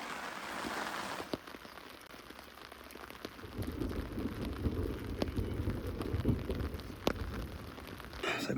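Heavy rain pours steadily on a campsite on an island, a dense continuous hiss with scattered sharp drops and crackles, and a low rumble of thunder swells beneath it in the second half.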